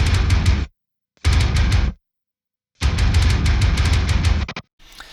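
A guitar and bass stem from an original song with programmed kick drums locked to its rhythm: three loud, dense bursts of heavy music broken by abrupt silences, ending with a faint trailing sound.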